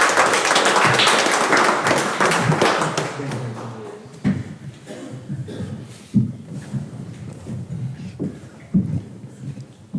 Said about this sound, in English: Okay, again, if we could give Molly and her mother a big round of applause